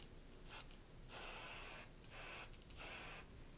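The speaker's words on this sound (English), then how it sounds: "I'm going to spray off the panel first, spray 12 inches at a rate where I'm putting a dust coat." A spray gun lays a light dust coat of paint across a panel during a top coat run repair, giving several steady hissing bursts of about a second each with short pauses between them, close up and with no talking.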